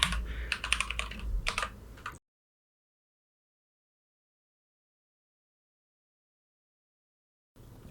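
A password is typed on a computer keyboard as a quick, close burst of clicking keystrokes lasting about two seconds, followed by silence.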